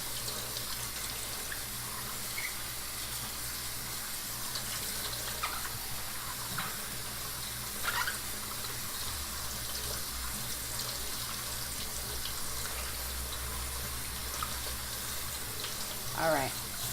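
Tap water runs steadily over potatoes being rinsed and moved around in a sink, a low continuous wash with faint occasional clinks.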